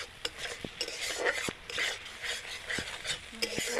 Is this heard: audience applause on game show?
no